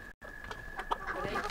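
A rooster clucks in short, soft bursts close by on a farm, a few quick guttural clucks over a faint steady tone, with no talking.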